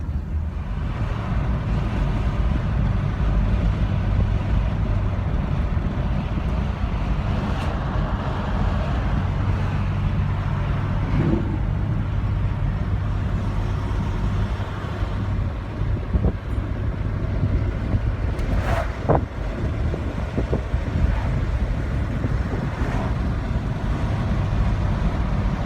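A 1977 Ford Thunderbird cruises along the road, its engine and tire noise forming a steady low drone heard from inside the cabin for the whole stretch, with a few faint knocks and clicks.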